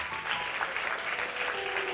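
A church congregation applauds together, dense, steady clapping that stays even and continuous from start to finish.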